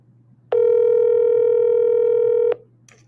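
A single steady telephone tone sounds for about two seconds, loud and clean, with faint background before and after.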